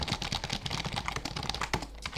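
Rapid, steady clatter of keys on a computer keyboard, close and fairly loud, typed continuously without pauses or voices.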